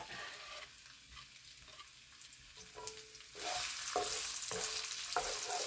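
Hot cooking oil sizzles in a pan before sautéing for curry meatballs, a quiet hiss that grows louder and steadier partway through, with occasional stirring clinks.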